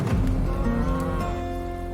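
Cattle on a farm give a deep, loud, drawn-out moo close by, holding steady for nearly two seconds.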